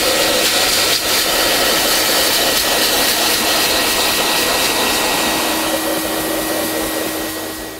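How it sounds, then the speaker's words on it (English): A vacuum cleaner fitted with a detailing brush roars steadily and loudly while cleaning a car interior, its motor whine holding throughout and easing off slightly at the end. "So now we've vacuumed out the seats, the carpets, and all the other intricate areas on the car."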